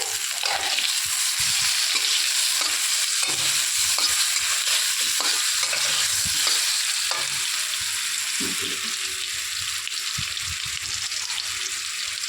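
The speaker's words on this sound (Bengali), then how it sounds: "এবার একটু নুন হলুদ দিয়ে ভাজা ভাজা করে নিয়ে" Two pieces of fish frying in oil with salt and turmeric for a sour fish curry with mango, a continuous loud sizzle punctuated by repeated scraping stirs of a spatula in the pan, no talking.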